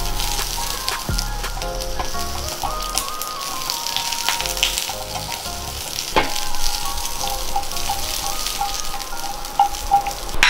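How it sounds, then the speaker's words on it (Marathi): Onion frying in hot oil for homemade pizza vegetables, a loud, steady sizzle with scattered pops and crackles throughout, close up and uninterrupted by speech. "तेल झालं आपलं गरम, कांदा टाकू पहिला"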